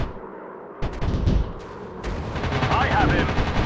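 Machine-gun fire in a WW2 aerial dogfight video game, with dense, loud rattling bursts that start abruptly and carry on over a busy background of engine roar and game effects.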